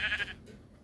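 A sheep bleating in a video game: a single short, nasal bleat at the very start, moderately close, fading into quiet background.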